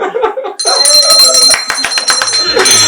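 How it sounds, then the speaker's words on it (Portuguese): A bell rung to close a board-game segment, bright sustained ringing tones that begin abruptly and carry on over loud voices and clapping. "Toca o sino, Márcia!"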